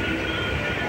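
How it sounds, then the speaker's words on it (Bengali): Local train from Dankuni station bound for Sealdah under way: a steady, loud rumble of rolling carriages heard from inside, continuous for about a second. "ডানকুনি স্টেশন থেকে আমাদের শিয়ালদাগামী ট্রেন ছেড়ে দিয়েছে।"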